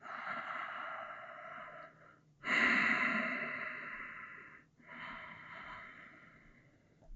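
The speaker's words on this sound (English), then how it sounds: "take a few steady, calming breaths. In through the nose, out through the nose." Slow, steady breaths drawn in and pushed out through the nose during a yoga class, heard as three long, soft airy rushes close to the microphone with short pauses between them.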